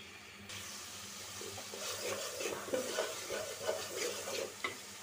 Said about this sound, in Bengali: চুলাটা বাড়াই দিই, কষানো হোক মশলাটা।